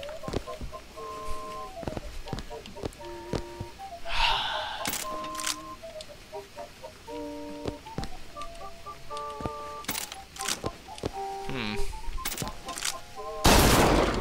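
Shotgun blasts in Bioshock Infinite, sharp and loud, fire off intermittently among game beeps, tonal effects and clatter, with one heavy blast near the end.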